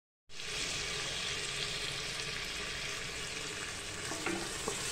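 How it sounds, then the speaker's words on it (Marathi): Tomatoes sauté in a pan for vegetable biryani, giving a steady, loud sizzle with the scrape of stirring, close up and without talk. "टोमॅटो आपण छानपैकी असं परतवून घेऊया"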